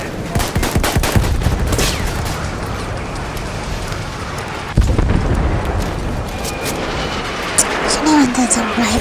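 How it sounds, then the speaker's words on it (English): Dense bursts of rifle gunfire from a video game rattle in rapid, overlapping volleys with heavy booms, loud and close, continuing throughout. "That's a rifle."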